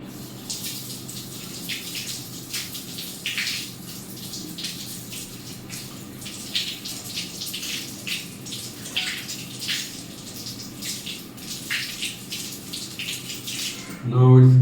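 Dishes are washed under a running kitchen tap, a steady stream of water splashing and hissing with scattered clinks and rubbing throughout, ending in a short louder clunk.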